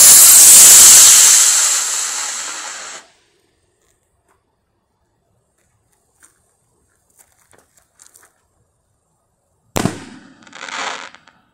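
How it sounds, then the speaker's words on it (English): A red, white and blue firework bouquet bursts with a loud, dense crackling hiss for about three seconds, then quiet with small scattered pops, followed later by another sharp bang and a hissing rush. "Number six will be a red, white, blue bouquet with a crackle."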